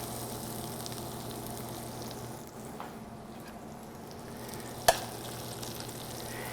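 Boiled gnocchi browns in a frying pan, giving a quiet, even hiss of gentle sizzling. A single sharp tap of the pan or utensil cuts through near the end.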